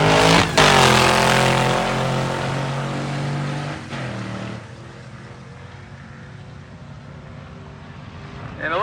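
A 1963 Nova and a 1962 Impala, both stick shift, launch in a drag race, engines roaring loud and close at the start, then the revving fades as the cars pull away down the strip.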